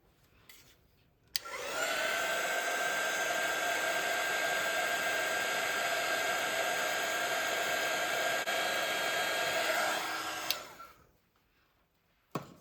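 A hair dryer blows steadily on a seascape watercolor bookmark for about nine seconds, its loud even whoosh with a high whine starting abruptly and cutting off, close to the microphone.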